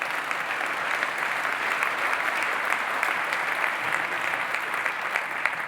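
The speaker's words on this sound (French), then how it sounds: "On peut l'applaudir Alexandre" Sustained applause from an audience at a Geneva business awards ceremony, dense even clapping at a constant level with scattered sharper claps, no voices over it.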